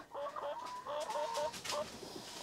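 Several chickens, Rhode Island Reds and native chickens, cluck in short, repeated bursts close by, a busy farmyard chatter with no talking over it.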